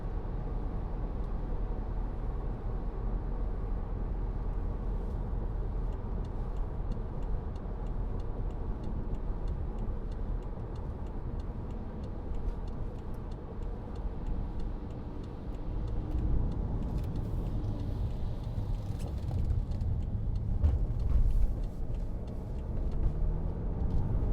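A 2.0 diesel BMW 520d M Sport four-door saloon cruising at 50 mph, its cabin filled with a steady, subdued low rumble of road and engine noise that stays even throughout, with faint occasional ticks and no talking.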